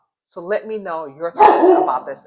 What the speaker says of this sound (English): I'm so sorry about my dog Apollo barking